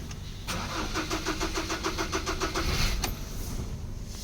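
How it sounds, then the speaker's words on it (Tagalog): A Ford Ranger engine cranks close up without catching: a steady run of rhythmic starter pulses for about two seconds, then it cuts off. "try lang muna nating i-crank ang makina para patas po sa ating lahat"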